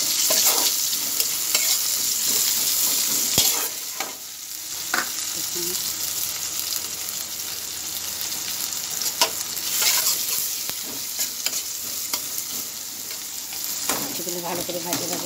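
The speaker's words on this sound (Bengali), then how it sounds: "ভালো করে ভাজা ভাজা হোক।" Food sizzles steadily in a hot pan while a utensil scrapes and stirs it in irregular strokes. The sound is loud, close and continuous, in a vegetarian kitchen where matar dal with bitter gourd is being cooked.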